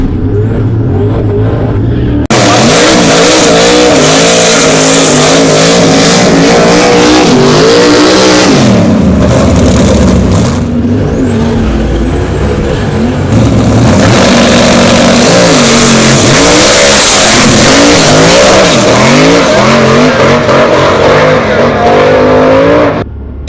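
A stick-shift race car accelerates hard down a tricky drag-strip surface, its engine loud and close, revving up through gears with rising and falling pitch for most of the run, briefly dipping between shifts.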